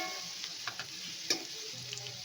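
Jackfruit pieces frying in an oil-filled pan for Andhra-style jackfruit biryani give off a steady, quiet sizzle, with a few soft stirring scrapes and one sharper clink of a utensil.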